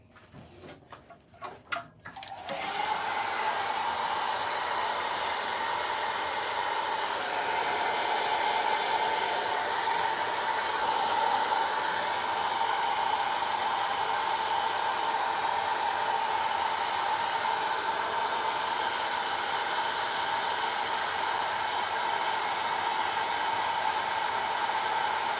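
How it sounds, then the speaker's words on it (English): A heat gun blows hot air over a freshly sealed wood-turning piece treated with intrinsic dyes. A few sharp clicks come first, then a loud, steady, unbroken whoosh that holds for over twenty seconds. "Let's try that again with the heat gun."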